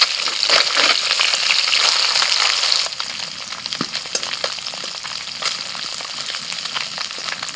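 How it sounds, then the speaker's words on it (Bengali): Small native puti fish frying in hot oil, a loud dense sizzle for the first few seconds that drops to a softer crackle with scattered pops and occasional stirring clatter. "মাছের 1 পিঠ ভাজা হয়ে গেছে, এবার অপর পিঠটা উল্টে দেবো।"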